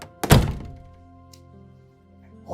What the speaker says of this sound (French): Il referme la porte.